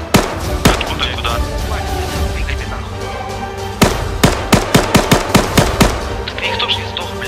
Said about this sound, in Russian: С вас на востоке стрельба.